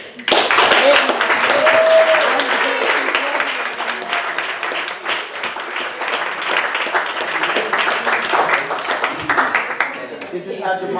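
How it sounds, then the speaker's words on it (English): Sustained applause at a university student government senate meeting, a loud, continuous round of many people clapping in a room, lasting about ten seconds with voices mixed in beneath it. "Thunderous applause."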